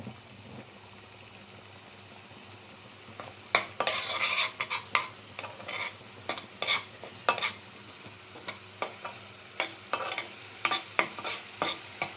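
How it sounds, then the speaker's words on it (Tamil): Onions sauté in a pan for Reshmi chicken curry, a soft sizzle under repeated clinking scrapes of a spatula stirring against metal, starting quiet and growing busier. "ஒரு 5லேருந்து 7 நிமிஷம் வெங்காயம் வந்து நல்லா வதங்குறதுக்கு விட்டுருவோம்"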